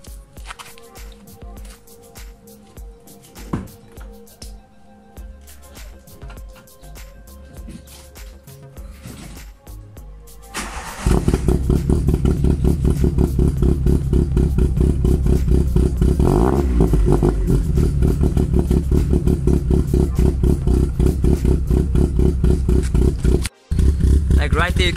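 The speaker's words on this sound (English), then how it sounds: "you guys can hear the car has a really rough idle" A VW Mk1 with a Kaoli exhaust cranks and fires up, then settles into a loud, rough, lumpy idle that runs steadily to the end after quieter handling noises at the start.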